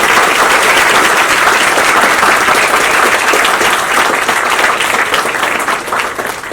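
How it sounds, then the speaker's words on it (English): An auditorium crowd at a biotechnology and bioinformatics school applauds loudly and continuously, a thick wash of many hands clapping that tapers slightly at the end. "I want you all to clap for your decision to join the D.Y. Patil School of Biotechnology and Bioinformatics."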